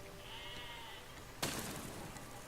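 Quiet sheep bleats in the video game Besiege, a wavering tonal call early on, then a sudden burst of harsher noise cuts in as sheep set off mines.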